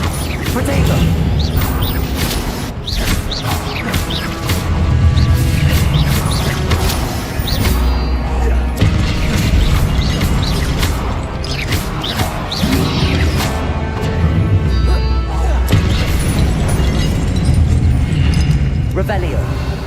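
Crashing, booming spell blasts from Incendio and Confringo in Hogwarts Legacy, repeated loud impacts and rumbling bursts layered through a busy duel, with a voice calling out spells throughout.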